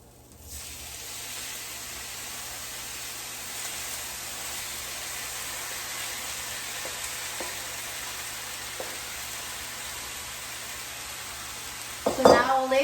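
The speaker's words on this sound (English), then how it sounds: "now all the ingredients for the filling are in one frying pan, and let's mix it so it's well combined" Steady sizzling of a bean and onion enchilada filling frying in a pan for several seconds, with faint occasional scraping of stirring and a brief clatter at the end.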